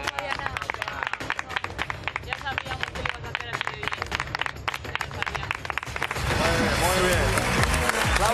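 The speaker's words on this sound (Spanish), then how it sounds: "Pues un aplauso." Studio audience applause on a Spanish debate show, at first mixed with lively talk and shouting, then swelling into loud, continuous clapping that fills the room.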